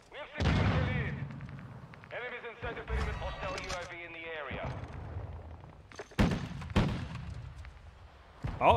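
Shotgun blasts ring out in a video game, several sharp loud reports scattered across the clip amid other gunfire and thuds, with players talking over much of it.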